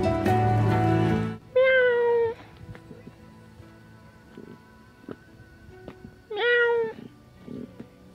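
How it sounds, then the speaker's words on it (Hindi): A cat meows loudly and close by, with two separate drawn-out cries a few seconds apart. A louder harmonic call opens the sequence, and quiet rustling fills the gaps between. "एक बिल्ली यहाँ पर है और एक बिल्ली यहाँ पर है"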